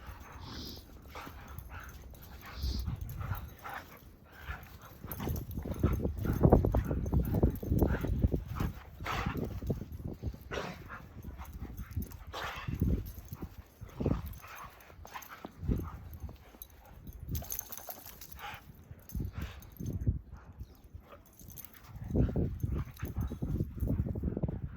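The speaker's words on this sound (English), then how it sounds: "play outside in the snow with our dogs" Dogs romp outside in the snow, with repeated bursts of panting, scuffling paws and occasional barks and whimpers coming and going over about twenty-five seconds, fairly close.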